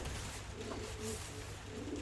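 A pigeon in a loft gives soft, low cooing calls, a few brief murmurs close by over a quiet background hum, with no talking.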